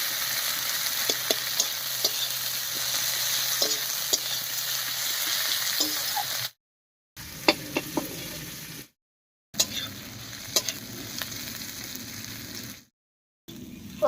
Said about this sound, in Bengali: দিয়ে দেবো রসুন কুচি। এবারে হালকা করে ভেজে নেব সব কিছুকে